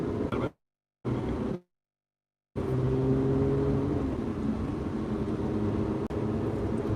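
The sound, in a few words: Lotus Evora GT engine blipping throttle during heel-toe downshifts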